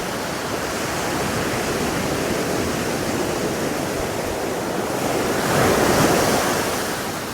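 Ocean surf on a beach on the Pacific coast, heard as a loud, continuous wash of breaking waves that swells slightly near the end, with wind and no talking.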